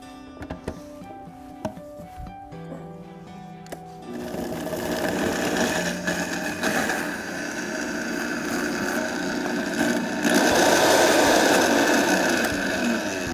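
A blender purees an oily marinade of herbs, spices and jalapeno for flautas: a few light clatters, then from about four seconds a loud, steady motor whir that runs continuously and grows slightly louder near the end.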